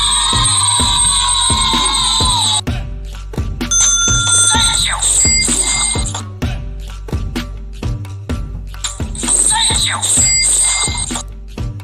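A bell sound effect, a rapid series of bright, ringing bicycle-bell dings repeated in quick bursts over a steady thumping beat, loud and close throughout.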